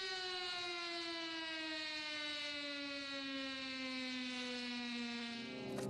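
Air-raid sirens wail across Nanjing city during a national memorial ceremony, a loud sustained tone with harmonic overtones that slowly drops in pitch and holds steady throughout, with no voices.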